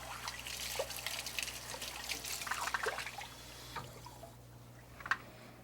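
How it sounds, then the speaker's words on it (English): Lukewarm water trickles and splashes while rinsing grease cleaner off an old train door, a faint, uneven dribbling with a few drips, quiet and close with a low background hum. "Now let's rinse it off."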